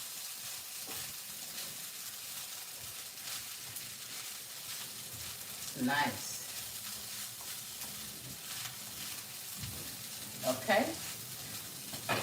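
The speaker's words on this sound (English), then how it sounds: "Y'all hear that sizzle?" Steady close sizzling of leftover rice frying in hot oil for fried rice, a continuous bright hiss, with a voice briefly speaking twice over it.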